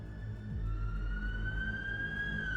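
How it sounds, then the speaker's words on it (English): A police siren wails faintly in the distance, one long slowly rising tone over a low background hum. "I heard the police sirens"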